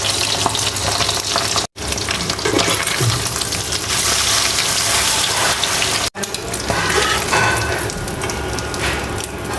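Eggs fry in hot oil in a pan, giving a loud, continuous crackling sizzle close by. The sound breaks off twice for a moment, then carries on.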